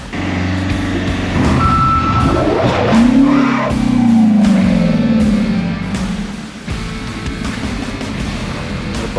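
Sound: truck with reversing beeps loading into curtain-side trailer

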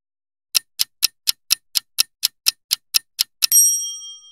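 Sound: clock ticking then shop bell ding

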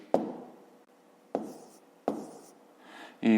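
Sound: writing by hand during a maths exercise

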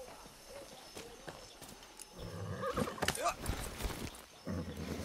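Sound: horse in Far Cry 6 video game

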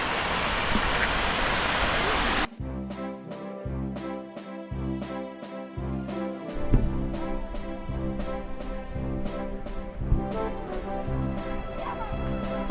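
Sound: fountain water jets and cascade

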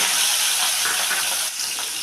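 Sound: prawns frying in a pan

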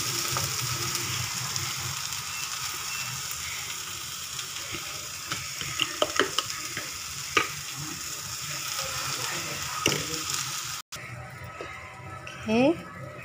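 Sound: capsicum frying in a pan

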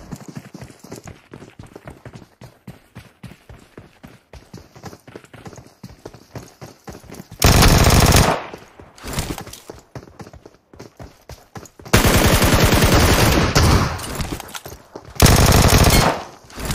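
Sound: gunfire in the video game PUBG Mobile

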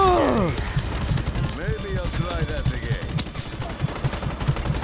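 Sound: gunfire in the video game Just Cause 3

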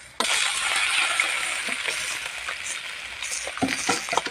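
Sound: stir-frying in a large wok

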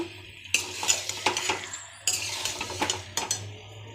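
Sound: stirring meat into fried spice masala

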